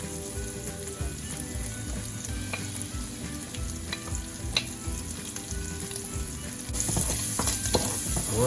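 Garlic fries in a pan over medium-high heat with a steady, dense sizzle and crackle, occasional stirring scrapes, and a louder surge of frying near the end.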